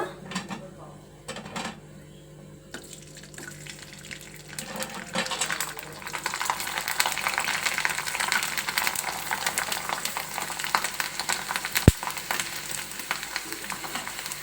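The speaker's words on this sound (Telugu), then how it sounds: "ఇప్పుడు వడియాలు వేయించుకోవడానికి నూనె పెట్టిన." Sun-dried rice vadiyalu (papads) frying in hot oil, a steady hiss and crackle that swells after a quiet start, with faint clinks of a utensil against the pan and light background talk.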